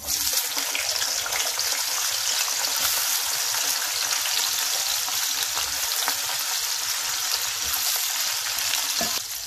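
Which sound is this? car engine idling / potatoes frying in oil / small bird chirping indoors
potatoes frying in oil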